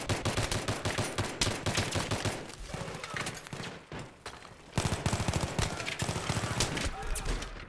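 Battlefield 3 Gun Master match gunfire: rapid, loud bursts and single shots crackle almost nonstop over busy game sound, with a voice talking over parts of it.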